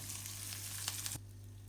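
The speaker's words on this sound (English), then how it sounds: "now I'm just frying my croutons in the rendered bacon fat." Soft sizzling of croutons frying in rendered bacon fat, quiet and steady, then dropping away after about a second.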